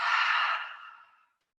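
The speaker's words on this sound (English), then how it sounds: "One more deep breath in and release." A deep, audible breath drawn in and slowly released in a calm yoga flow class, the airy exhale fading gradually over about a second, close and alone.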